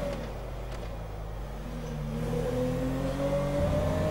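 A 2015 Toyota Corolla with a 1300 cc engine revs in a GTA 5 real-life mod, its steady mid-pitched engine note climbing gradually as the car accelerates, heard up close with no talking.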